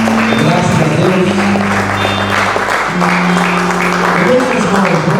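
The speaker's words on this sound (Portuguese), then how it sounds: "Vamos aplaudir o Senhor Jesus." Church congregation applauding during a service, loud continuous clapping with sustained organ or keyboard chords playing underneath and a voice calling out over it.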